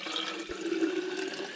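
Water pours steadily into a water bottle in a kitchen during a morning drink routine, a continuous close trickling stream with a rising filling tone for under two seconds, no talking.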